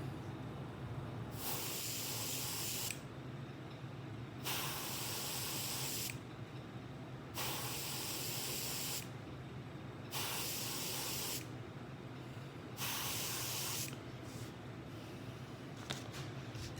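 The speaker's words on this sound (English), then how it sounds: "I'm going to set this brush on here, and I'm just going to lightly spray" Bursts of airbrush spray hiss in steady on-off pulses, each lasting a couple of seconds with short gaps, close and fairly loud, with no talking.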